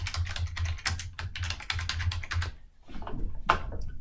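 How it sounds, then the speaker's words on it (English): Fingers type rapidly on a computer keyboard at close range, a flurry of quick irregular key clicks that pauses briefly before a few last taps, with no speech. "you can type in the job or order name"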